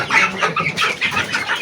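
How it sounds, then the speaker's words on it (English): Chickens clucking and calling close by in a Kenyan village farmyard, a steady run of short overlapping clucks with no talking. "Little chicken."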